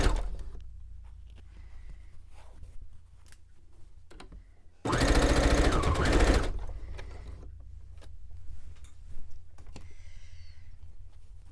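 Sewing machine running a straight seam on a pillowcase made from a men's button-up shirt, one loud sustained burst of rapid stitching lasting about two seconds amid quiet room noise.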